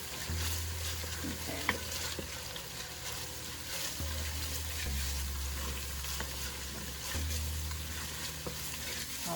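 Tomato paste is being stirred into frying green grams, a steady close sizzle with repeated scraping strokes of a spoon, and a single short spoken word.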